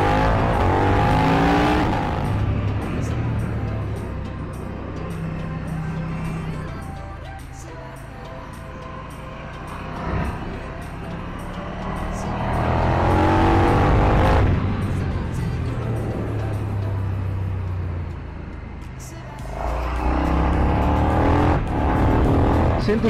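A KTM Superduke 1290R motorcycle engine accelerates hard, its roar swelling and surging in long waves of revving, close and loud throughout, with traction control straining against the power.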